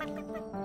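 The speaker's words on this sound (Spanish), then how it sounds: "¿Una gallina? ¿Qué tiene que ver una gallina con un dinosaurio?" A chicken gives a short, close cluck, a brief harmonic vocal burst with no other sounds around it.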